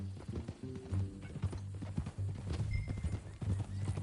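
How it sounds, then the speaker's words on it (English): Horse hooves clip-clop steadily in the Red Dead Redemption 2 video game, close and fairly loud, with a brief whinny partway through and no talking. "That new horse?"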